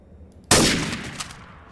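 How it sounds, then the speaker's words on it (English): A burst of video game gunfire, one loud sharp blast quickly followed by a rattling decaying tail, short and close with nothing else audible. "Someone's getting shot."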